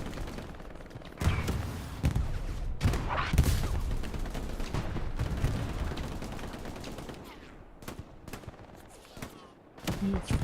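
Dense gunfire and rocket blasts rattle through a World War II multiplayer shooter battle near a bridge, with steady loud crackling bursts and heavier booms continuing throughout.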